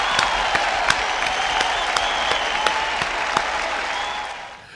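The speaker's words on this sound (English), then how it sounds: "Hand clap." Steady applause from a crowd with sharp, regular hand claps cutting through a continuous wash of clapping, loud and close, fading slightly at the end.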